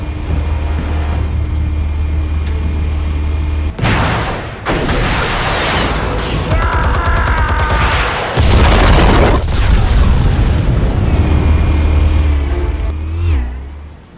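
Armed explosives detonate in the Batman Telltale game as deep booming blasts, with a heavy low rumble, an abrupt cut and then a second sustained roaring burst amid debris and a rising whine.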